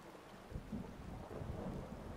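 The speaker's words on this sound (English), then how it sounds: "Maybe it's just a thunderstorm that's making it so dark." Thunderstorm in the Fallout 4 video game, a low continuous rumble of thunder with rain hiss that swells after the first half second and stays steady and fairly quiet throughout.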